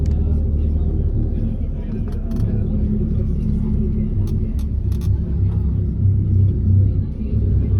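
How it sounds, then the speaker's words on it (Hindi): A bus crawling slowly through narrow, congested Bali streets, its steady low engine rumble loud and close throughout, with a few faint clicks above it. "सड़कें छोटी हैं, इसलिए बस धीरे धीरे चलती है।"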